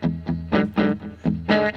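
A Gibson 335 electric guitar through a Fender Pro Junior amp, with an effect, plays a short rhythmic part of strummed chords in steady bursts, heard alone and up close.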